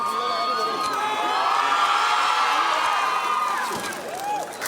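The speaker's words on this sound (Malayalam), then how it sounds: "ലൊക്കേഷനിലേക്ക് എത്തിയ മോഹൻലാലിനെ ആഹ്ലാദാരവങ്ങളോടെ വിദ്യാർത്ഥികൾ സ്വീകരിച്ചു." Students at a college film location cheer and shout as actor Mohanlal arrives for the Drishyam 3 launch ceremony, a sustained, fairly loud crowd roar with scattered whoops, easing off toward the end.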